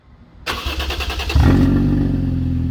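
A car engine with its resonator cut off cranks and catches, then revs up loudly into a deep, raspy drone close by, with no talking.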